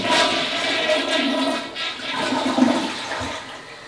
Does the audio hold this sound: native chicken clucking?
no